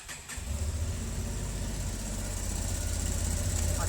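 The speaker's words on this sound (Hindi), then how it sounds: "चलो इंजन फायर करके देखते हैं।" A 2025 Honda Transalp XL 750 motorcycle engine cranks and fires, then settles into a steady, close, throbbing idle that holds evenly to the end.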